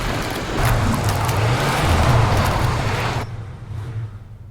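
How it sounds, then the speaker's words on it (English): A car engine in The Quarry revs hard while the car is stuck in mud, a loud close low roar with wheel-spin noise that swells, holds, then cuts off abruptly near the end. "They get in the car and try to get out, but they're stuck in the mud"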